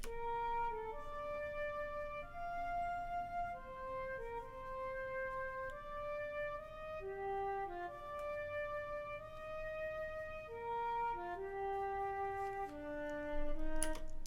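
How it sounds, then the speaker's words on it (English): Synth flute preset playing a clear, legato melody of sustained notes with steady level throughout, alone with no voices, for a pluggnb beat. "I then have this flute preset here"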